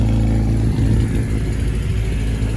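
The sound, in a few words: loud Volvo 145S B20 engine running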